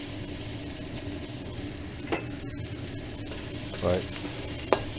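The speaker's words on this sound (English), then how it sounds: "now we're gonna fry up our aromatics" Garlic aromatics stir-fry in a pan, a soft continuous sizzle broken by a few clinks and scrapes of a utensil, heard close and quiet, with a brief spoken word near the start.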